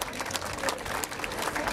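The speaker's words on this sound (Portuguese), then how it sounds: "Aplausos a Santo Antônio!" A church congregation in Tiros, Minas Gerais, applauds Saint Anthony at the patron saint's feast, a short, fairly faint spell of continuous crowd clapping.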